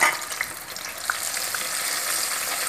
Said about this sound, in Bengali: টমেটো আদা আর পাকা লঙ্কার পেস্ট ভালো করে নেড়ে চেড়ে নিতে হবে কিছুটা সময় মশলাটা ফ্রাই করে নিতে হবে